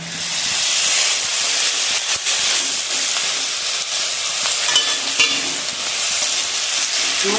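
Prawns and browned onion frying with ginger garlic paste in a pan, a loud steady hiss of sizzling oil with occasional stirring scrapes, close and continuous, no talking.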